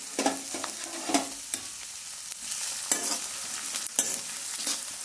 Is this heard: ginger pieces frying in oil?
yes